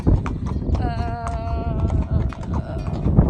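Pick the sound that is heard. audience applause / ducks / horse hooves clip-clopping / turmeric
horse hooves clip-clopping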